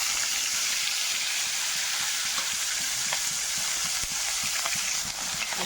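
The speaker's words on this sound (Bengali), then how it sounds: "আবার 4 পিস করে ভাজা করে নেব।" Fish pieces frying in plenty of hot oil in a pan for a Bengali bhola fish and bean mustard curry, giving a steady, close sizzle with small pops and crackles throughout, no voices.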